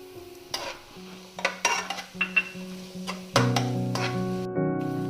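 Vegetables for chicken fried rice stir-fried over a high flame, with repeated scraping and clinking of a utensil against the pan and light sizzling, loud and close, alternating with steady background music.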